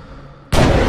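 A gunshot in the action shooter Stranglehold, a loud sudden blast that breaks a quiet lull halfway through and rings out with a sustained roar of gunfire or explosion.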